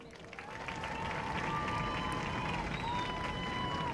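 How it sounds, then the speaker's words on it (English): Crowd applause at a high school parade of champions on an outdoor track, steady clapping and cheering from a large gathering with some voices and chatter mixed in, fairly loud and sustained throughout. "So we're going to give her a hearty applause."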